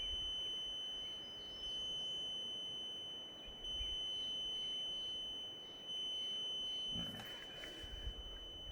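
Thin, high electronic beeps from a Seametric CT2X data logger repeat steadily over a constant background hum, with a brief burst of broadband noise near the end.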